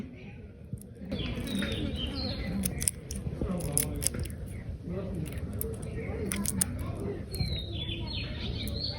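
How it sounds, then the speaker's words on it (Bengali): Small icha shrimp being cut and cleaned by hand for a village meal in Hatiya, with crisp repeated snipping clicks over a voice talking and birds chirping in the background. "তো এই যে এদিকে হচ্ছে যে ইসা মাছগুলো কুটা শুরু হয়ে গেছে।"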